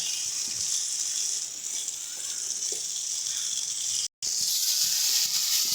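Spices and pre-fried potatoes are stir-fried in a pan for a sweet pumpkin and prawn dish, making a loud, continuous hissing sizzle that cuts out for a split second near the end.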